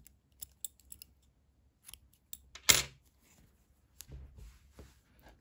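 Scissors give a single crisp snip through crochet yarn, loud and close, with a few faint clicks and taps of handling around it.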